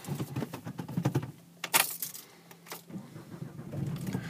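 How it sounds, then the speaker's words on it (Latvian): A Volvo car being started from inside the cabin: a key jangle and clicks, then a brief cranking burst as the engine catches, settling into a quiet idle with faint rustling nearby. "es tagad iedarbināju mašīnu"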